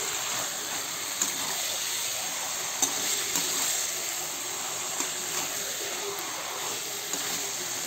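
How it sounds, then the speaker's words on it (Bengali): Boiled taro greens with taro stems cooking in a hot pan, giving a steady, moderate sizzle and hiss throughout with a few faint clinks of a spoon, no voices. "এই যে এখন আমি এই যে কচু শাকটা ঢেলে দেবো।"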